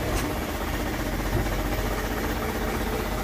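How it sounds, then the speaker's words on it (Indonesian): Isuzu Elf truck engine idling around 500 RPM, a steady low rumble with a continuous even drone and slight vibration that holds at one level, fairly loud and close, with no talking. "Sekarang aku nyalakan mesinnya supaya lengkap ya"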